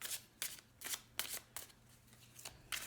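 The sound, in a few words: tarot cards being pulled from the deck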